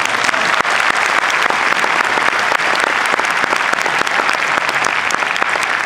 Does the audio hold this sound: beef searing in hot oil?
no